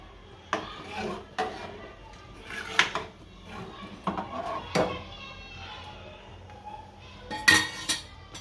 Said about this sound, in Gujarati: અને હલાઈ નાખશું દાળને હારી.